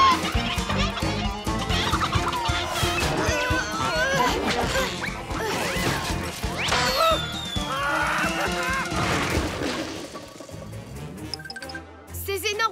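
Animated chickens cluck and squawk over a busy, loud mix of music and effects, with occasional crashes.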